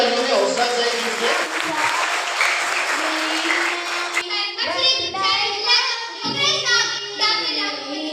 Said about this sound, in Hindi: आपकी भरपूर तालियों में हौसला चाहिए इससे